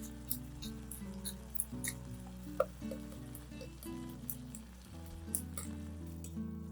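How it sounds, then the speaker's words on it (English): Tomatoes sautéing in a pan over medium heat, a soft continuous sizzle with occasional small pops and clicks, fairly quiet and with no voices. "I sautéed them over medium heat until the tomatoes released their juices and formed a sauce"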